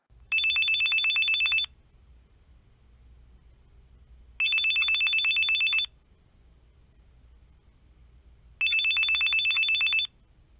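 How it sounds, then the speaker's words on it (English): A phone ringtone rings three times in a quiet room, each electronic trill burst lasting about a second and a half and separated by pauses of about three seconds, loud and close. "Suddenly, her phone was ringing."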